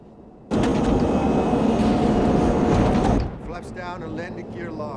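An airplane coming in to land with flaps and landing gear down, heard as a loud, steady broadband roar that cuts off abruptly, followed by voices talking over a quieter background.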